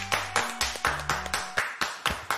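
Several people clap for a player after his game, about ten sharp claps at a steady rhythm, close and fairly quiet, with a faint low hum underneath.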